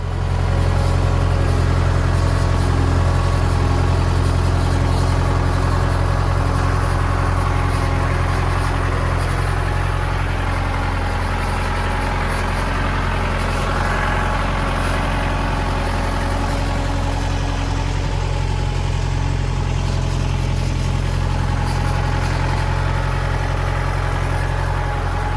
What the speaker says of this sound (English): So I'll get back on the tractor